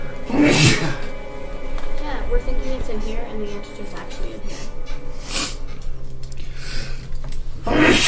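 A sneeze bursts out during an escape-room box puzzle game, heard as a short sharp burst early on, with people talking over and around it and other brief noisy bursts later.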